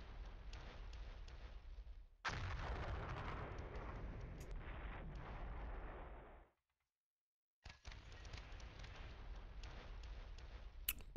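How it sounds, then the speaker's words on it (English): Mortar fire in the wargame Flashpoint Campaigns: Southern Storm, a sharp blast followed by a few seconds of rumbling noise, then a short silence and more muffled crackling impacts, moderately loud and alone. "Mortar fire? Is this our mortar now?"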